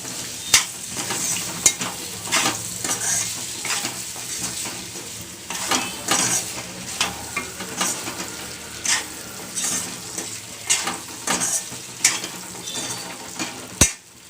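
Potatoes fry with browned onions in a pan for a curry, giving a steady sizzle broken by repeated clinks and scrapes of a spoon stirring them at an uneven rhythm.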